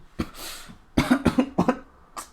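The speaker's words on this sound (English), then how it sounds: "he drinks his juice completely and starts coughing" A burst of harsh coughing after drinking juice: one cough, then a rapid run of five or six close, loud coughs, ending with a softer one.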